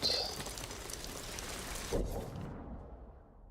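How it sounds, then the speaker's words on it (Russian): Video game rain in Ghost of Tsushima: a steady hiss with a brief bird call near the start; the high-pitched patter thins out after a couple of seconds, leaving a duller rumble. "А это дождь все идет"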